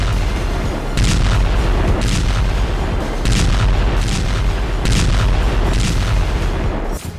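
Russian MLRS rocket artillery strikes on Dnipro, a loud continuous rumbling roar with repeated heavy booming bursts roughly every second or two, dense and distorted.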